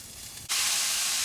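Ground beef dropped into hot olive oil in a pan on a high stove bursts into a loud, steady sizzle that cuts in abruptly after a quiet moment and holds close and bright.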